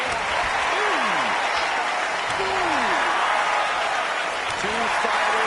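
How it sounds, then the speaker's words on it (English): A large wrestling crowd at a G1 Climax pro wrestling event keeps up steady, dense applause and cheering throughout, loud and continuous, with a few raised voices whooping above the wash of clapping. "Listen to this crowd driving these competitors to leave everything out in the ring."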